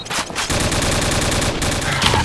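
An M60 machine gun in Call of Duty 4 fires a loud, close, sustained automatic burst, the shots running together in a fast steady rhythm throughout.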